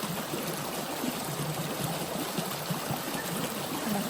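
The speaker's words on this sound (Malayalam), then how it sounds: "നമ്മുടെ തോട് കാണണം ഈ തോടിലെ വെള്ളം ഇടയ്ക്ക് കലങ്ങിട്ടോ" Water flowing in a small stream that sometimes runs muddy after landslides upstream, a continuous even rush and trickle heard close by with no voices.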